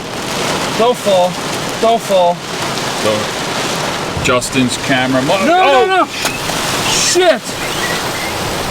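Heavy rain falling during a Florida thunderstorm, a loud, constant hiss of downpour on surfaces under excited, overlapping voices talking and shouting throughout.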